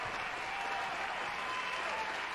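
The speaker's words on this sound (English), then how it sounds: "Go ahead, hit the applause." An applause sound effect plays on a comedy talk show, a dense, even burst of crowd clapping that fills the moment steadily from start to finish.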